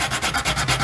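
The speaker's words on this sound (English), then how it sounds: "I always like to start with one of these sanding blocks to knock off the high points" Sanding block rubbed back and forth over a handmade wooden lipless crankbait lure, a close, loud, rhythmic scratchy rasp with steady strokes and no voices.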